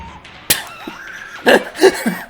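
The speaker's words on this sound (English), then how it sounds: "The face smashed against the glass." A face smashing against window glass in the 1977 film Suspiria, one sharp loud impact followed by screams and cries, close up.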